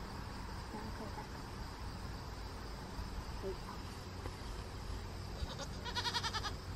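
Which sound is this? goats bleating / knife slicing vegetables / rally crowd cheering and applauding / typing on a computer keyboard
goats bleating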